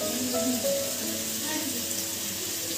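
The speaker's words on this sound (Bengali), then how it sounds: "বোন এখানে ভাজাগুলো বসিয়ে দিয়েছে" Food frying in a pan in a home kitchen, with a steady, close sizzle running throughout, joined by some faint kitchen clatter.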